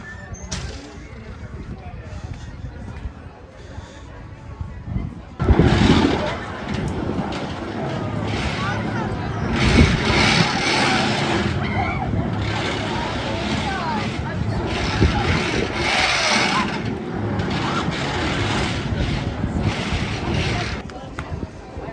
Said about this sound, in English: I'll go ahead and give a ride on the Scandy Scrambler and see how the Scrambler here runs.